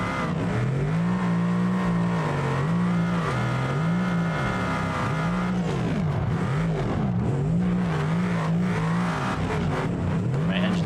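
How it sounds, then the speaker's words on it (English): A car engine revs in the BeamNG driving game, a loud, continuous droning tone that rises and falls in repeated waves as the throttle is worked, steady and up front with no pauses. "My engine sounds like I'm in a vacuum."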